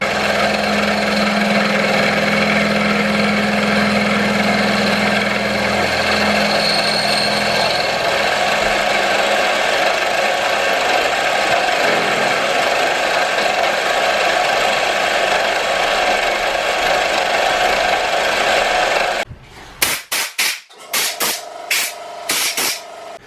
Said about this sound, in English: So I just milled 2 millimeters off the cap in this area, as you saw